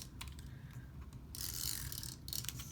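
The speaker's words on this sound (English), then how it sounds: "And so I add some more adhesive" An adhesive tape runner rolls glue onto backing paper for a handmade card, giving a close, crisp ratcheting rasp. It rises after a quiet lead-in and comes in a few short strokes, alone and without speech.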